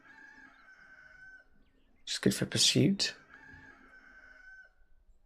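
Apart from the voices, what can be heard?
cockerel crowing in the background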